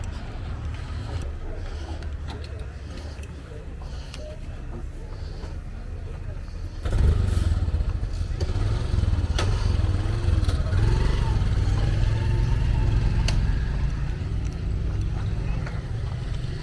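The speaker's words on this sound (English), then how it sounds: "Let's follow the motorbikes or the motorcycles, the direction they are going to." Motorcycles ride along a road under construction in Mlolongo, Nairobi, with steady engine drone and a louder pass partway through, heard amid outdoor traffic rumble.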